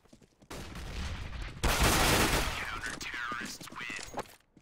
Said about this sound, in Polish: tylko pistolet, tylko Glock.